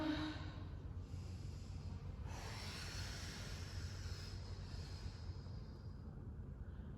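A long, steady inhale through the nose during a Pilates exercise, a soft airy rush lasting several seconds with no talking.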